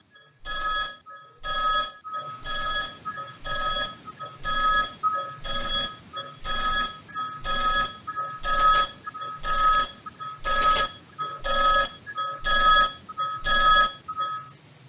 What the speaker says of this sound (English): Phone is getting louder, the new waypoint set near that doorway.